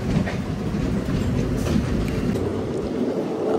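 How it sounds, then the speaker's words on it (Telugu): The Karaikal–Tambaram Express rolls along the rails past Chengalpattu in the early morning, a steady loud rumble with rhythmic clatter heard from inside the coach, with no talk. "చెంగల్పట్టు దాటింది ట్రైన్ అంతే."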